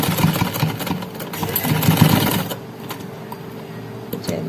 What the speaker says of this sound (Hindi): अब मैं पूरी सिलाई लगा के दिखाती हूँ।